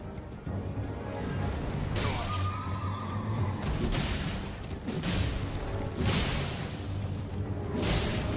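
In a soulslike video game, a horse under attack lets out a neigh amid repeated whooshing swings, crashing impacts and booming hits, loud and close in irregular bursts.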